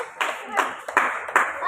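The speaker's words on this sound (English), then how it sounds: "A big round of applause for them." A classroom of students claps in a short round of applause for a team of classmates, with four distinct bursts of hand-claps rising and fading close by.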